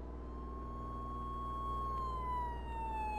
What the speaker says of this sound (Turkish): Ambulans geldi bu arada.